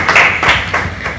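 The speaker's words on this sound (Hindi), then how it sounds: "तालियां बजा दो भाई" Hand clapping, as if applauding, comes as three or four broad, fairly loud claps about a third of a second apart, with no voice over them.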